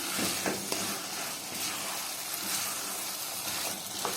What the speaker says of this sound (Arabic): اشوح بقى الرز كويس في الفول